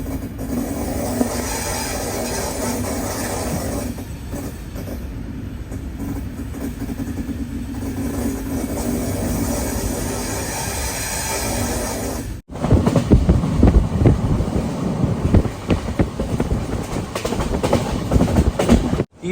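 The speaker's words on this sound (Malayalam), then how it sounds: "റേണിഗുണ്ട ജംഗ്ഷനിലേക്ക് നമ്മുടെ ട്രെയിൻ എടുത്തുകൊണ്ടിരിക്കുക" Inside a Mangaluru–Kacheguda express train in sleeper class, a steady rumbling roar of the moving coaches runs throughout, growing louder and harsher with rattling clatter about two-thirds of the way through; no speech.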